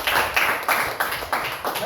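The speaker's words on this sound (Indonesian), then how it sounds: "tepuk tangan." Classroom applause from students at a junior high school (SMPN 1 Toma), a group of hands clapping in pulsing bursts, moderately loud and close, with a few voices mixed in.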